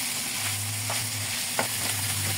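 Ground meat and cabbage sizzle steadily in a pan at close range, with a low continuous frying hiss broken by a few soft scraping stirs.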